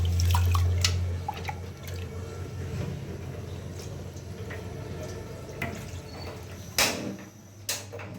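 Rice being washed by hand in a pot of water in a home kitchen, with soft sloshing and trickling, a few clinks and splashes, fairly quiet and close.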